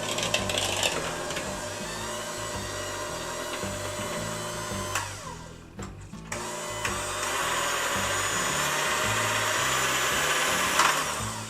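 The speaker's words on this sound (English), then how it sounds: "Pick up your beaters to high like that." Electric hand mixer beaters whirring through peanut butter and sugar in a bowl, a loud continuous motor drone with rhythmic scraping and a brief dip midway, no talk.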